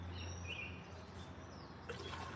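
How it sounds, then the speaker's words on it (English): Water flows steadily through a gold prospecting sluice running Missouri mountain material, a continuous close wash with a low motor hum beneath and faint chirps above. "filtering some water down through there."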